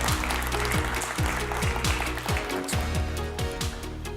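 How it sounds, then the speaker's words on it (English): Audience applause at a FinTech conference panel session, a steady crowd clapping blended with loud background music carrying a deep, rhythmic bass line throughout. "So please give him a big round of applause, Chris."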